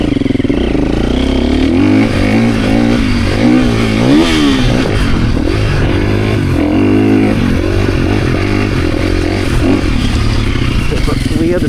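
A motorcycle revving and riding off on rough rocky ground, its engine rising and falling in wavering pitch sweeps, loud and close throughout with a voice occasionally heard under it.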